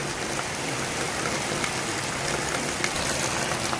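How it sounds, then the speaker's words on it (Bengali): Heavy rain pours during a flood, where water has submerged the road, ponds and fields. It makes a constant, dense rushing wash with no breaks and no voices. "কি পরিমাণে বৃষ্টি হচ্ছে আজকে।"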